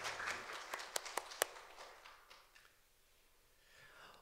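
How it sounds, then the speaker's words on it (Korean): A church congregation applauds at a service, with a brief flurry of sharp individual claps that quickly thins and fades into quiet room tone, faint overall. "하나님께 영광의 박수를 드리겠습니다."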